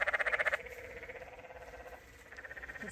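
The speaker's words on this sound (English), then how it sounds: "Is it a frog? This might be a frog." A frog croaks in the Grand Canyon in a fast pulsing train, loud at first, then fainter and intermittent, with a second burst near the end under outdoor background noise.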